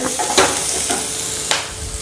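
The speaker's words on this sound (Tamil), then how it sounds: "வெங்காயம் கொஞ்சம் நல்லா வதங்கிருச்சு" Onions and curry leaves sautéing in a pan with a pinch of salt, a steady close sizzle with a few scraping stirs of a spoon, no talking.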